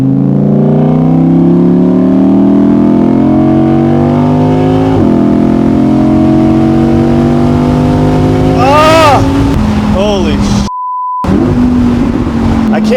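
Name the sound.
supercar engine revving with light throttle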